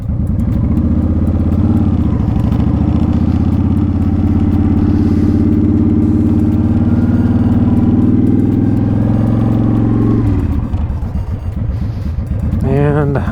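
A motorcycle rolls slowly in first gear at about 15 to 18 miles an hour across a gravel parking lot, its steady low engine drone loud and close, shifting in pitch near the end.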